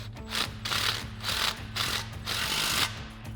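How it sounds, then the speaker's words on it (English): An impact wrench fitted with a 14mm socket tightens bolts on a Jeep Wrangler JK suspension lift, hammering in four loud, rattling bursts with brief pauses between them, close and unaccompanied by talk. "We're going to grab our 14mm socket on our impact and our 14mm wrench"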